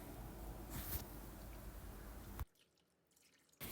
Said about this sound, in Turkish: su gezdiriyorum